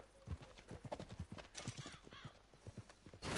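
Horse hooves clip-clop in a steady rhythmic walk in the Red Dead Redemption 2 video game, close and distinct, with a short burst of louder noise at the end.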